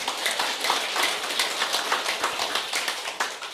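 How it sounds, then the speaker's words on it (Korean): An audience claps, a steady patter of many hands applauding at moderate volume, without voices. "여러분 다시 한번 박수를 주시기 바랍니다."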